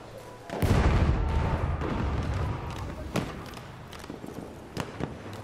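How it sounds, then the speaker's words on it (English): A heavy, booming grenade blast in Battlefield 1 opens with a deep low rumble, followed by lingering battlefield noise, scattered thuds and distant gunshots. "Throwing grenade! Watch it!"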